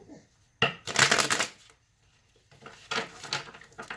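Two quick riffle shuffles of a tarot card deck, close and crisp, separated by a short pause.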